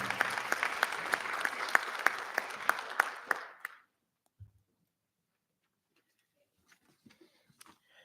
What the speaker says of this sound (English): Another round of applause for Martin.